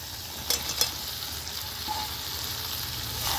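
Potatoes go into a pan of frying chicken curry with a low, steady sizzle, broken by a couple of sharp clinks from a utensil early on.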